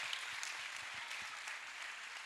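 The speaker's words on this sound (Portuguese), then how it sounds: "Aplauda Jesus se você é crente." A church congregation claps together in a steady burst of applause, sustained and moderately loud for a couple of seconds, at a youth congress.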